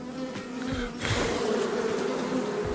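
Honeybees and drones buzzing at a queen-rearing nucleus hive, a close, steady insect drone that swells slightly partway through.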